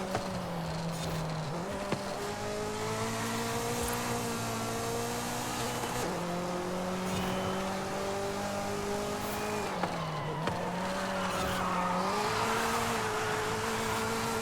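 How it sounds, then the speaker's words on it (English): In a video game, a Nissan Z Nismo drifts with its engine holding a steady, sliding tone that dips and rises at each gear change or throttle lift, the tires squealing faintly beneath over roughly fourteen seconds. "now that I'm seeing this small little drift that I pulled off there"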